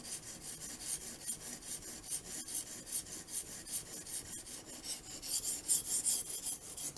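A knife tip is drawn over a coarse stone on a TSPROF K03 Pro Hunter guided sharpener, giving rhythmic rasping strokes back and forth, close and steady, about two strokes per second.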